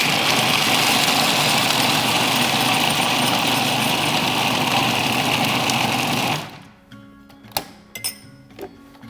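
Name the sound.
food processor blending crumble mixture with cinnamon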